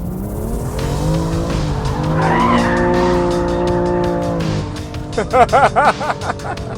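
A BMW M2 Competition or Honda Civic Type R sliding sideways on a race track, its tires squealing in a long sustained wail under engine noise, followed by short rapid squeal bursts, loud and close.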